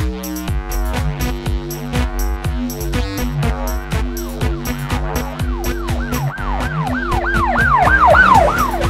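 A toy Land Rover fire truck's wailing siren rises and falls repeatedly, growing louder toward the end, mixed with bright tinny music and clicking rhythms.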